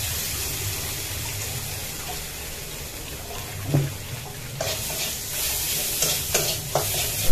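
Cumin and ginger-garlic paste fry in a pan with a steady, close sizzle. Occasional stirring scrapes and clinks sound over it, and the sizzle grows louder toward the end.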